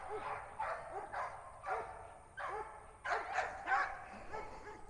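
Several dogs, the owner's and the neighbor's, bark in an excited outdoor fit, fast overlapping barks and yips piling up at moderate distance, with a person's voice faintly underneath.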